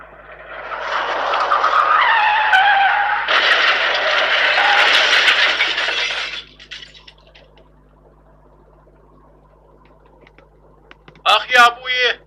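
A car skids off the road and crashes, loud broadband tire and impact noise lasting about six seconds, then a quiet stretch, followed by a voice crying out near the end.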